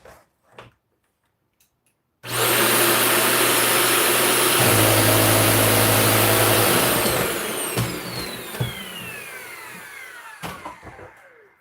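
A Vac Pack vacuum cleaner's motor, being tested while troubleshooting whether it can turn the brush, switches on abruptly with a loud steady whine and roar, runs for several seconds, then winds down with descending tones and a few rattles.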